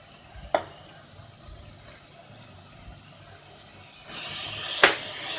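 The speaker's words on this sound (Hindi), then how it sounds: "ऑनियन को हमें हल्का ब्राउन करना है।" Onions browning in a pan for a spiced dal, giving a low, steady frying hiss with a couple of sharp scrapes from stirring, the sizzle swelling louder near the end.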